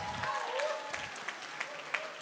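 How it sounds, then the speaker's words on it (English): Guests applaud the hosting families at a home gathering, a brief patter of clapping from a modest crowd with a few sharper individual claps standing out, faint voices mixed underneath. "Let's give them a round of applause."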